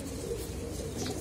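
Pigeons cooing in a large loft, soft, low and faint, with a gentle steady murmur and no voices.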